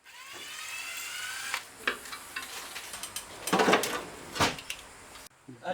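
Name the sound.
undoing bolts to remove an engine's front cover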